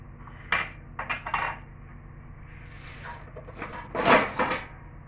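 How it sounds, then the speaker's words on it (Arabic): Spoon mixing starch, powdered milk and flour in a bowl for date-filled biscuit dough, scattered scraping and clinking strokes against the dish, close and intermittent with no talk. "نخلطهم بالمعلقة"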